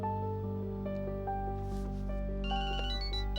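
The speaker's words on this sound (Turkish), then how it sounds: "Aa Arsen Hanım arıyor." A mobile phone rings during a scene in the Turkish TV drama Aşk-ı Memnu, playing a steady melodic electronic ringtone over a constant low background hum, with no one speaking.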